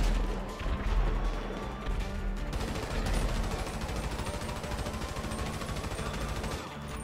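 Rapid, dense gunfire in a GTA video game, a sustained crackling volley of shots lasting several seconds at fairly close range, tapering off at the end.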